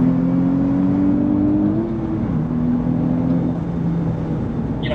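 Nissan Z with a 3-liter V6, a steady low engine hum with a smooth drone from inside the car while driving, pitch shifting slightly mid-way as the revs change, fairly loud and constant.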